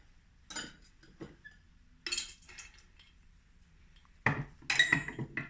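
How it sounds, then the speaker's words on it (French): Ice cubes dropped into a glass while mixing a Haitian planteur cocktail, giving a few separate bright clinks in short bursts, close and fairly clear with no talk. "On va mettre les glaçons d'abord dans le verre."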